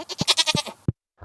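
A goat in the video game Stardew Valley gives a few short wavering bleats, close and clear, followed by a brief pause and soft rustle.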